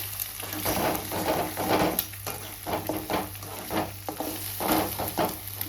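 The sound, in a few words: stirring and frying beaten eggs in a pan for egg bhurji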